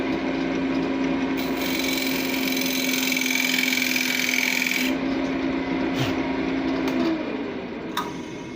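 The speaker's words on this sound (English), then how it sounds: "we're ready to cut the chamfer." A wood chamfer being cut on a lathe with a homemade thread-chasing chisel: a steady close rasping scrape over a constant motor hum for about seven seconds, then the cut stops, leaving a few light clicks.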